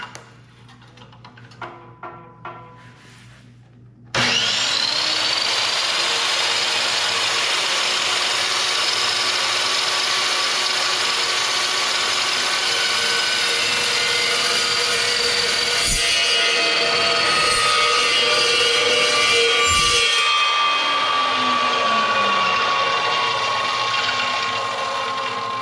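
An Evolution metal chop saw spins up and cuts through standard 1.5 by 1/4 inch steel bar, a loud sustained high whine with grinding that holds for about twenty seconds, after a few light clicks and taps.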